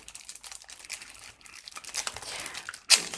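Plastic wrappers of PACT card game booster packs crinkle and tear as they are opened, a soft continuous rustling that builds toward a sharper rip near the end.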